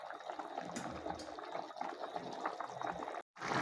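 Rice and water boiling in a pot, a steady bubbling, simmering roar held close and fairly loud throughout, with a brief dropout near the end and no talking.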